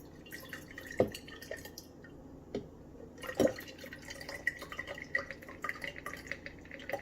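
Pineapple mint mojito mocktail trickles and drips steadily into a mason jar with a few louder splashes and clinks, close and continuous.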